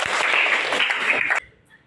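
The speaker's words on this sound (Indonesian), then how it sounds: "Tepuk tangan buat Norma." A school classroom claps together for a student during a civics lesson, a short dense burst of hand clapping that cuts off abruptly after about a second and a half.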